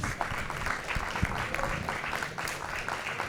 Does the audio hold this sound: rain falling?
no